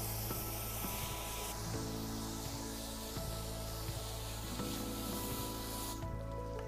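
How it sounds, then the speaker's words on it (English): A hose spraying water to rinse loosened dirt off wood during cleaning before sealing, a steady faint hiss with a low constant hum underneath. "Next step is to use a hose to clean off all of the dirt that we've loosened up with the Scotch-Brite pad."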